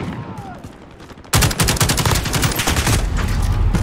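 Sudden bursts of automatic gunfire in Modern Warfare erupt after a quieter stretch, loud, close rattling shots that continue without letup to the end.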